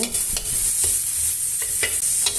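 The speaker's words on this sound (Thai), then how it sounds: "ผัดหมูสับต่อไปสักครู่เมื่อหมูสับเปลี่ยนเป็นสีขาว" Minced pork is stir-fried with curry paste in a hot pan for a bamboo shoot dish, a loud continuous sizzle broken by repeated spatula scrapes and tosses, with no one talking.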